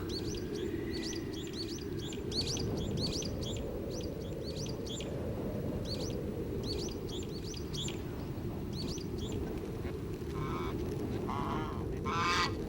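Free-range chickens and ducks gather around a coop on a snowy mountain farm, giving repeated honking, quacking calls in quick bursts over a loud steady low rumble.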